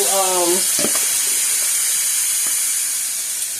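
Pre-washed turkey wings sear in a pan with a loud, continuous, close sizzle. A short voice-like sound comes at the very start.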